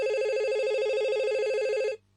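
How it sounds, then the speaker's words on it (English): A telephone rings in an office, one steady electronic ring tone with a fast warbling trill, loud and alone, lasting about two seconds before cutting off to near silence. "One morning last summer, Al called his office at 9 o'clock"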